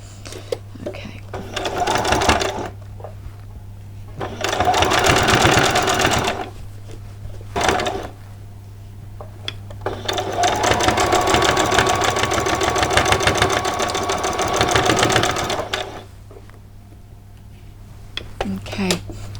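A sewing machine stitches fabric onto a dress bodice, finishing with a short backstitch. It runs in several loud, whirring bursts separated by pauses, and the longest run lasts about six seconds. A person talks nearby.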